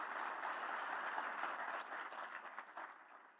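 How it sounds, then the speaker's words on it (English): A dinner audience applauds the governor, steady dense clapping that stays full for a few seconds before thinning slightly toward the end, heard from a distance. "let's give him a big round of applause."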